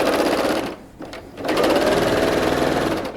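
A sewing machine runs steadily stitching trouser inseams with a 5/8 inch seam allowance, a close continuous mechanical whir that dips briefly as it pauses before resuming.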